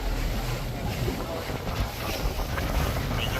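Strong wind buffets the microphone while riding a boat, a continuous loud roar of gusting air and rumble with the wash of water underneath, unbroken throughout.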